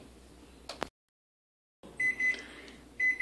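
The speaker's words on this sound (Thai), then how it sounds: "ตั้งเวลาไว้เลย จับเวลาไว้" A kitchen oven timer sounds while a banana cake bakes, giving short, high, thin beeps in two brief bursts after a stretch of near silence.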